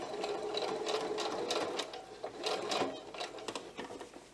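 A sewing machine stitching pixie wings onto a top, running in a continuous close whirring burst with brief pauses and restarts, no talking.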